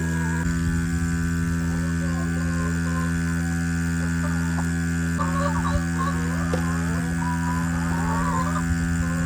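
An electric milking machine for dairy goats runs with a constant mains-like hum and buzz, while faint animal shuffling and clunks sound in a barn setting.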